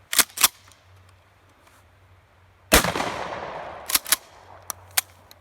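A gun fired from the hip with a shell, heard as a single loud, close blast that rings out in a long decaying tail. Sharp clicks and clacks of handling come before and after it.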